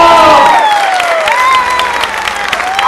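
A crowd at a live concert claps and cheers steadily, with whoops and shouts rising over the applause; a voice or whistle glides across the noise, and the sound is loud throughout.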